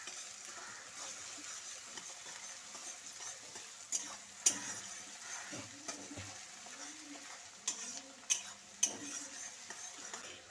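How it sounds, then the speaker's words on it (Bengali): Chopped onions with asafoetida frying in a pan for aloo dum, a soft steady sizzle with scattered metallic scrapes and clicks of a spoon stirring, quiet and close. "তারপর পেঁয়াজটা দিয়ে ভালো করে নেড়ে চেড়ে নিচ্ছি"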